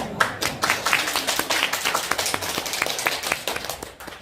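Audience applause at a Korean presidential policy debate, a steady burst of clapping from a room of people lasting several seconds, fairly loud and dense, with faint talk underneath.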